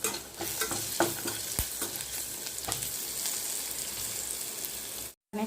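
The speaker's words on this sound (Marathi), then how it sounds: "आणि छान तेलामध्ये परतून घेतलेले आहे।" Spices and peanuts frying in oil with chilli, turmeric, coriander and cumin powders, a close crackling sizzle with spoon scrapes and occasional sharp taps, steady until a brief silent cut near the end.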